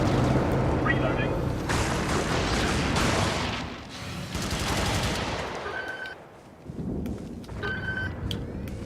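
Intense video game battle with continuous automatic gunfire and booming explosions, loud and dense, dipping briefly before resuming with further shots and beeping cues, voices talking over the combat.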